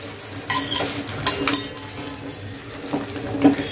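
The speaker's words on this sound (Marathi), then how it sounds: "एक साईडवरून चांगलं फ्राय झालेलं आहे, दुसऱ्या साईडवरून फ्राय होतंय।" An egg fries in a hot pan with a soft, uneven sizzle, while intermittent utensil scrapes and taps against the pan punctuate it; quiet and close, with no voices.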